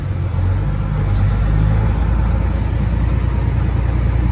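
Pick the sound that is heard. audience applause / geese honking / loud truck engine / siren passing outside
loud truck engine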